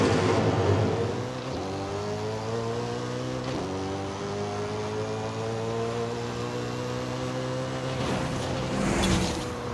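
A BMW M3-GTR on a drag tune in Forza Horizon 5 launches hard and accelerates with a loud, climbing engine roar and gear changes, close and steady with no talking.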